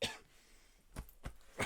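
A few faint, short coughs from a person with COVID, roughly three bursts spaced apart, quiet and close, with no talking.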